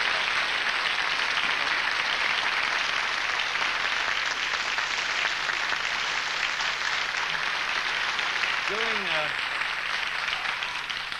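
A television studio audience and fan club applaud for a singer, a loud continuous roar of clapping filling the whole stretch, with a brief voice near the end.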